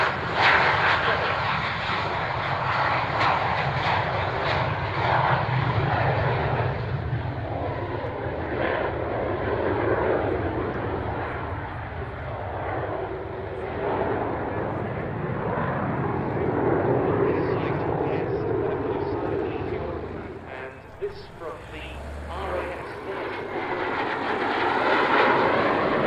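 Hawker Hunter jets from Scampton fly over an air display with a loud, steady roar that swells and fades slightly, under continuous commentary from a speaker.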